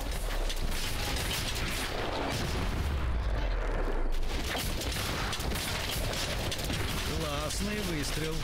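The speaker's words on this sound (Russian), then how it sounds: "Классный выстрел." Gunfire rings out in the video game Biomutant amid dense, busy game effects and clanking mechanisms, loud and close, with a voice speaking over parts of it.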